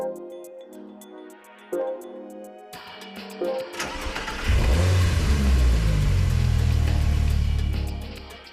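Car engine in Gran Turismo 5 starting up after a quieter stretch, then revving hard into a loud, sustained roar with deep low rumble that fades slightly at the end, with no talking.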